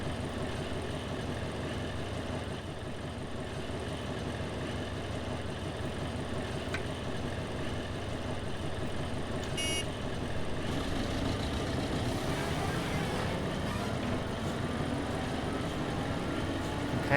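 A steam locomotive in Train Simulator Classic on the Mid Suffolk Light Railway rumbles steadily and evenly, with a dense rhythmic mechanical chuff over a low drone and no speech.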